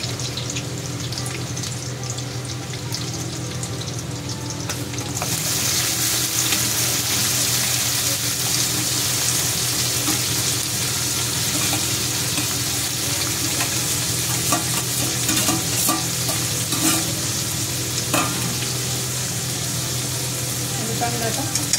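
Garlic and green chillies frying in oil while being stirred, a steady close sizzle that grows louder partway through, with scraping stirs and faint voices in the background.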